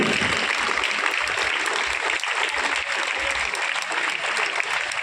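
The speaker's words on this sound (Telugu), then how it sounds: "మా సారు సాంసన్ సార్ గారికి ఒకసారి గట్టిగా చప్పట్లు కొట్టవలసిందిగా మనం చేస్తున్నాం" An audience applauds at a gathering in honour of a teacher: loud, continuous clapping that fills the whole stretch at an even level, with faint voices mixed into the background.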